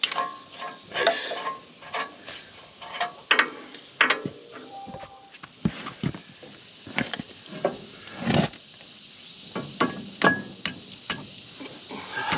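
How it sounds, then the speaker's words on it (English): Sharp metallic taps and clanks ring out at irregular intervals while parts of a bulldozer are fitted back together, some single knocks and some quick pairs, fairly close with workshop clatter between them. "grab your hammer and just barely tap that in just a little bit to hold it"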